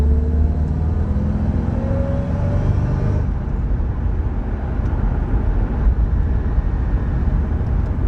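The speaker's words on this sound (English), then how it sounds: "number 4, I would have to say, would be the supercharger whine" Supercharged Cobra car on the move, a steady engine and road rumble with a rising high-pitched whine riding over it, continuous and close.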